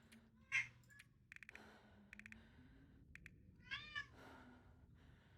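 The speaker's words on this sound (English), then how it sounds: "This little kitty being loud." A small pet cat meows loudly several times, with sharp bursts separated by pauses. Faint clicking and tapping sounds come between the meows in a quiet room.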